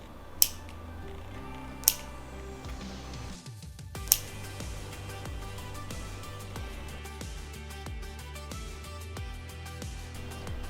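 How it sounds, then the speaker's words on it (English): A pet's nails are trimmed with nail clippers, giving three sharp, isolated clicks close by against a quiet background hum, with faint light taps after the first few snips; no talking. "We'll proceed to clip the rest of the nails first."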